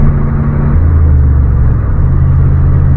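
Chevy truck with a throttle-body-injected engine running at steady idle, a loud close low rumble with a slight shift in pitch, no voices.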